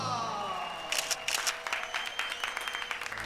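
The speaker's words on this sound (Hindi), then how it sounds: "अरे काम हुआ नहीं, ताली बजा दी।" A small crowd breaks into scattered clapping at an improvised press conference, several pairs of hands patting unevenly for a couple of seconds, moderately loud over a low room murmur.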